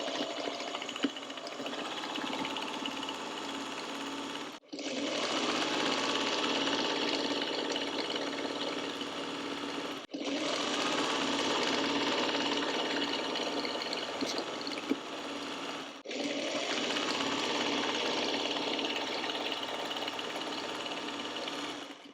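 A sewing machine runs in three long steady stretches, each about five seconds, stitching a fabric pencil pouch made from one fat quarter, with a close, even mechanical hum and short pauses between runs.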